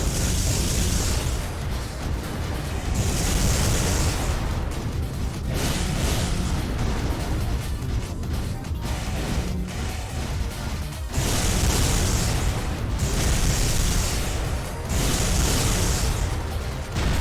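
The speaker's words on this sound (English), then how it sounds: "But a plasma cannon shot." Plasma cannon shots and explosions from the Armored Core Nexus video game, with repeated heavy blasts and roaring bursts rising and falling over about seventeen seconds of dense, loud mech combat noise.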